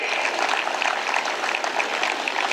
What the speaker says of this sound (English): Audience, let's give a round of applause for Mr. Vivek Atre.